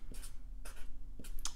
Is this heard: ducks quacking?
no